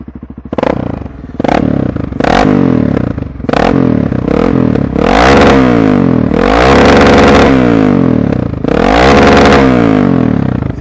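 A Honda NX4 Falcon motorcycle engine revs loudly and close, starting with a few short sharp blips and building into longer, rising throttle pulls over a rumbling idle.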